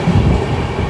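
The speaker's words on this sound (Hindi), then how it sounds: "ट्रेन हमारी स्किप कर रही है कलाई कुंडा रेलवे स्टेशन" The Kriya Yoga Express special train rolling through Kalaikunda railway station without stopping, a brief, loud, steady rumble of wheels on rails with low clattering, no voices.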